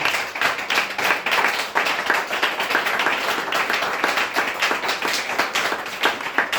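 A church congregation claps in a steady rhythm, a dense run of quick, loud hand claps that continues the whole time with no break.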